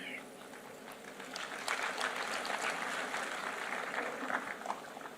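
Audience applause at the Bharat Tex 2025 textile event in Bharat Mandapam, a steady spread of clapping that swells after the first second and holds; fairly distant and soft, no talking.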